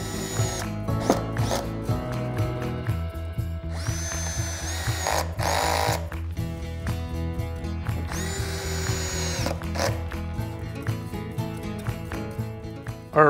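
A power drill drives screws through plywood cleats for a French cleat shelf, whirring in repeated close bursts that rise and stop between screws, with ratcheting clicks and handling knocks in between.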